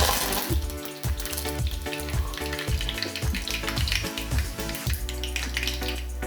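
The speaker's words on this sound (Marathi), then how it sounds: "आता आपली फोडणी छानपैकी तडतडली आहे" Tempering spices, asafoetida and two dried red chilies, crackle and pop sharply in hot oil over a continuous close sizzle, with a steady tonal hum running underneath.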